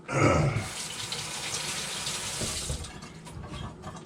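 Water runs steadily from a tap over freshly electrolysis-cleaned, formerly ocean-tarnished silver, a close, continuous splashing rush with a heavier splash at the start that eases off near the end.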